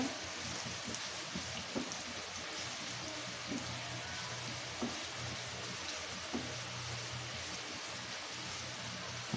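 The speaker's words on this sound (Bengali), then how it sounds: "পেঁয়াজটা একটু ভাজা ভাজা করে নেব।" A steady, soft sizzle of chopped onion and chili frying in a pan continues throughout, with occasional faint clicks of stirring.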